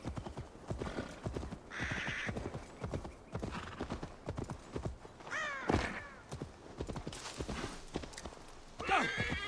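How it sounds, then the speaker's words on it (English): Donkey hooves clip-clop steadily along a path in the Assassin's Creed Valhalla video game, a close, rhythmic run of hollow taps with brief whinny-like calls and other game sounds mixed in. "And that's a donkey."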